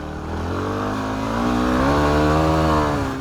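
A 2008 Yamaha WR250R motorcycle engine climbing steadily in pitch as it accelerates to high RPM, a loud, close, buzzing drone rising over a few seconds.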